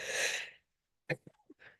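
A person sneezes once, loud and sharp, then after a pause comes a short burst of faint breathy gasps and sniffles close to the microphone.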